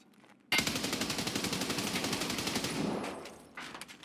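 Automatic gunfire from a video game as a full magazine is dumped in a PvE Labs raid: a loud, continuous rapid-fire burst of evenly spaced shots lasting over two seconds, then trailing off, with a single later report.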